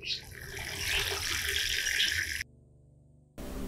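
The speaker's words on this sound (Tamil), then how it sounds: "இப்போ தண்ணி ஊற்றிடலாம்." Water poured onto a newly planted tomato seedling in a terrace garden makes a loud, steady splashing rush for over two seconds, then stops abruptly, with a brief burst of noise at the end.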